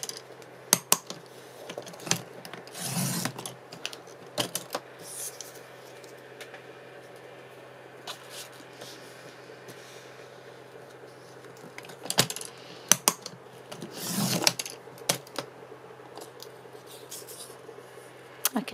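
An old, worn paper cutter trims craft scraps: a run of sharp clicks and chops in scattered bursts, with quieter handling noises and a faint hum in between.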